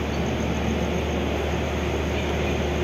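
A train rumbles at a railway station platform, a steady loud low drone with broadband noise throughout and no talk.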